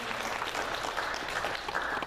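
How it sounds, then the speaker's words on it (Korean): A church congregation applauds during a Thanksgiving Sunday service, a steady wash of many hands clapping at moderate level throughout, no voices standing out. "하나님께 영광의 박수 올려드리겠습니다."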